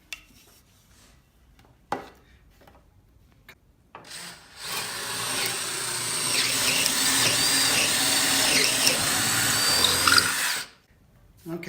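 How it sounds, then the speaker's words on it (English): An electric drill bores a 3/4 inch hole through a wooden handrail for a home gymnastics floor bar, grinding steadily and loudly for about seven seconds after a few faint knocks, then stopping abruptly. "so I drilled the holes through the handrail with a 3/4 inch drill bit"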